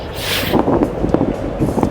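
Cold wind gusts buffet a microphone outdoors, producing a steady rumbling roar with brief louder bursts.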